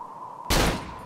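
A single loud, close gunshot blast in the horror game Cry of Fear breaks over a steady low hum and decays over about half a second, with a faint click after.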